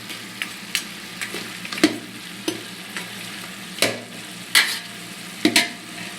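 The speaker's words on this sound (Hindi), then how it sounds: "अब हम इस गोश्त को भूनेंगे।" Camel meat frying in a pot, a soft sizzle beneath repeated scraping strokes of a spoon, the stirring coming in irregular bursts at close range.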